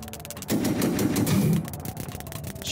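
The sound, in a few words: tanks' gunfire in the video game Reverse Collapse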